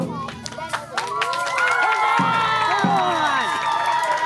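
A large crowd at a medieval-style tournament of knights cheers and shouts loudly and steadily, with whistles and voices rising above a dense roar; a few people call out nearby.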